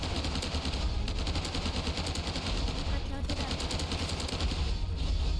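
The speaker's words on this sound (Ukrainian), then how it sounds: "Ви бачите, в мене є такий кулемет." Rapid sustained machine gun fire in the Roblox shooter Hypershot, a dense loud continuous rattle of shots with game noise and a voice talking over it.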